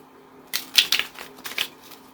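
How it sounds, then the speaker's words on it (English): A quick riffle of a card deck being shuffled, a short burst of crisp papery flutters and snaps lasting about a second, close by with no talking. "This is my last shuffle."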